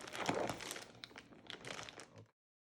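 Plastic packaging around a compressed orthopedic foam dog bed is torn and opened, a close, continuous crinkling and rustling for about two seconds before stopping.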